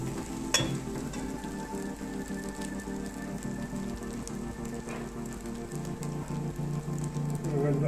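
Rice frying in a pan for fried rice: a steady crackling sizzle that runs continuously at moderate loudness, with a faint hum in the background and a brief clatter near the start.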